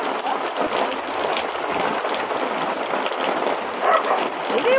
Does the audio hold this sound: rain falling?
yes